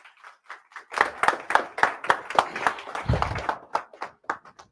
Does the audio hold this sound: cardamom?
no